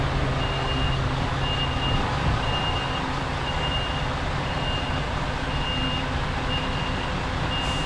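A truck reverses, its backup alarm beeping in an even, repeating rhythm over a steady engine rumble for the whole stretch, with no voices.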